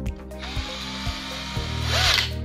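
Bosch GSB 120 cordless 12-volt drill with its chuck tightening on a bit: a steady whirring motor hum with a few evenly spaced clicks from the ratcheting chuck, close and alone.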